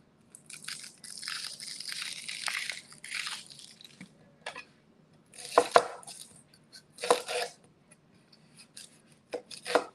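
Shallots are chopped and handled on a cutting board in a series of crisp, uneven knife crunches and scrapes, some clustered in quick bursts and others isolated, with quiet gaps between.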